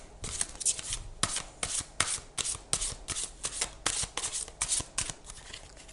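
Tarot cards being shuffled by hand, a steady run of crisp riffling and sliding bursts with short pauses between them, close and fairly quiet with no talking.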